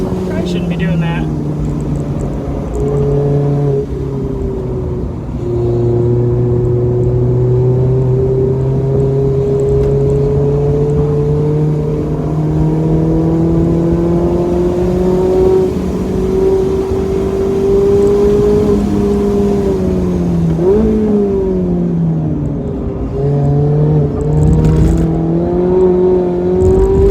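A lightly modified Mazda ND Miata laps Atlanta Motorsports Park, its engine droning steadily and rising and falling in pitch through the corners, loud and continuous, with someone talking over it.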